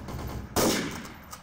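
Gunfire in Counter-Strike: a sudden loud burst of shots from a weapon, abrupt and close, ringing out briefly after a short stretch of quieter game ambience.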